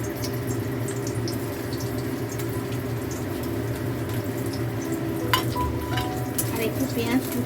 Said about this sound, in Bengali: এবারে আমি পেঁয়াজটা ভেজে নেব।